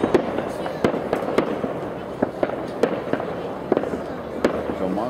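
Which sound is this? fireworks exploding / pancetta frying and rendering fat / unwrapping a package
fireworks exploding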